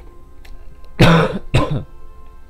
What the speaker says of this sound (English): That was a satisfying cough